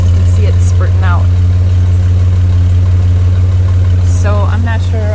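A GMC S15 pickup's 4.3L V6 idles steadily with a loud, constant low rumble as exhaust spurts from a fairly new black-tipped tailpipe, with faint chirping sounds over the top.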